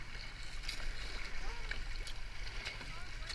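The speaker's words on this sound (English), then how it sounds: "Do a right paddle." Canoe paddles dip and splash in water with soft, irregular strokes amid continuous watery background noise, while people talk quietly nearby.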